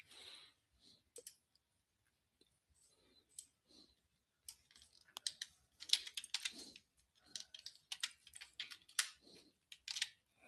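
A command typed on a computer keyboard, with quick irregular key clicks that come sparse at first and then build into denser bursts of tapping, close to the microphone and with no talking.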